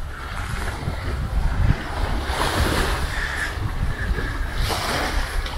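Wind gusting at a lakeshore with small waves lapping, a continuous broad rushing roar with mic buffeting swells.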